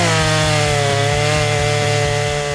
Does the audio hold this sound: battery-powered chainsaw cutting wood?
yes